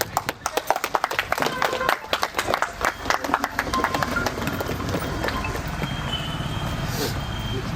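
An audience at a bumper prize draw claps, starting with sharp, separate claps that quickly merge into a steady round of applause that slowly thins out.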